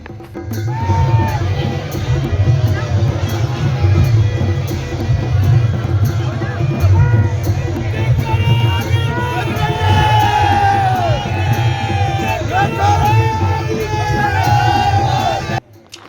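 Dense crowd of devotees at a Kumbh 2021 procession of akhara sadhus in Jwalapur, Haridwar, chanting and shouting together in a loud, continuous roar, with rising chant phrases repeating throughout.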